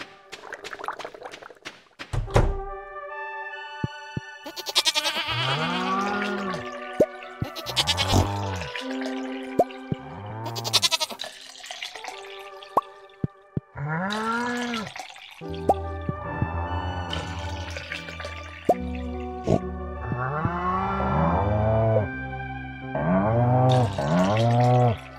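Farm animals in Stardew Valley, a run of cartoonish bleats and moos in repeated calls, with sharp drip-like plinks and game chimes scattered between them, close and clear with no talking.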